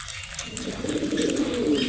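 Pet pigeons in a home loft coo steadily in low, throaty, repeated calls, close and continuous, with faint chirps above and almost no talk.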